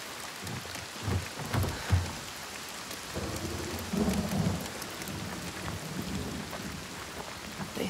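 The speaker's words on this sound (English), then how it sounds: "The constant storm." Steady rain pours down in the constant storm of Hellblade 2, with heavy thunder rolling and cracking in the first seconds, then settling into dense, close rainfall.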